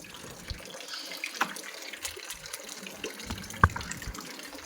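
Tap water running into a sink at home, a steady soft splash with a few brief clatters, fairly faint and close, with no talking over it.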